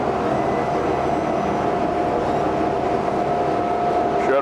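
A 1999 Mercury 75hp 20-inch tiller outboard boat motor running: a loud, steady droning hum with a constant whine, holding unchanged throughout.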